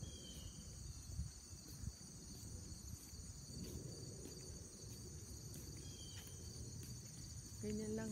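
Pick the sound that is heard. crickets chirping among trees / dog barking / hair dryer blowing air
crickets chirping among trees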